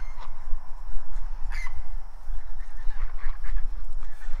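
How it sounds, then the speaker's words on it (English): Geese honk near a duck pen outdoors, a few scattered nasal calls over a low windy rumble, moderately close, with no talking. "Okay, the geese are coming over to ruin the stream."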